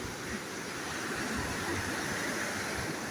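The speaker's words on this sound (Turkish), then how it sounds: "Bugün biraz dalgalı deniz ama e, plaj olarak çok güzel, korunaklı bir plaj." Waves of the Black Sea on a sheltered sandy beach at Çamurca near Ayancık, Sinop, on a choppy day, a continuous loud wash of surf and rushing water filling the whole clip.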